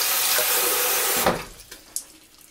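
Tap water runs steadily over a bar of vegan leather soap, a loud close hiss that cuts off after about a second, followed by a few small drips and knocks.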